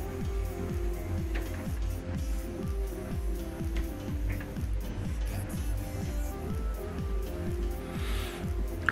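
A Canon TS3100 series inkjet printer works through a print job, its carriage and feed mechanism producing a steady series of rhythmic mechanical clunks and whirs, fairly quiet and close, with no talking.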